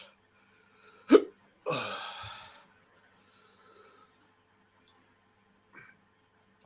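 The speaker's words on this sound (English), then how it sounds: "I noticed the hiccups are hard to control too." Sharp hiccups after drinking an orange-flavoured drink, two strong close spasms a second or so apart followed by a breathy exhale and faint later catches, with no speech.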